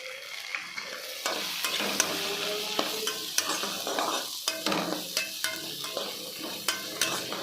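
Grated coconut and lima bean curry spices are stirred and fried in a pan, with a spoon scraping in quick repeated strokes over a soft sizzle, close and fairly quiet.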